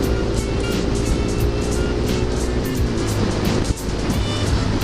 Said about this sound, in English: Makes a bit of a noise, but you know, I like noisy bikes.